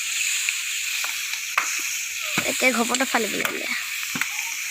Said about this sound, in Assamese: মাংস ভাজিছে